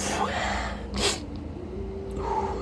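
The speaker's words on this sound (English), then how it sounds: "Little sneeze." One short, light sneeze bursts out near the middle, with a small snort or breath before it and faint background noise under it.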